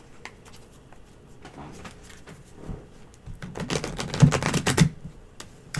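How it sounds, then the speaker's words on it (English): A deck of tarot cards is shuffled by hand in quick bursts of dense riffling and flicking, starting soft and growing louder and closer toward the end, with no speech over it. "I'm going to give you a good shuffle as well."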